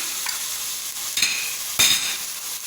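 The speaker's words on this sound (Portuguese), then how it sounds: "A cebola já tá fritando, né?" Onion and garlic frying in a pan, a soft sizzle punctuated by a couple of stirring scrapes, close and moderately quiet with no voices.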